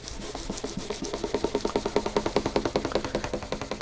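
Sandpaper rubbing back and forth over a polished finish to level it, a steady run of quick, even, rasping strokes close by, growing slightly louder and more regular as it goes, with no talking.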